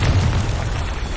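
A Confringo fire spell in Hogwarts Legacy detonates in a loud, deep boom, a single dense blast whose rumble fills the short moment without any voices.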